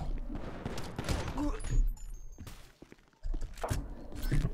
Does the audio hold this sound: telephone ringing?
no